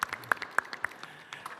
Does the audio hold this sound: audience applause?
yes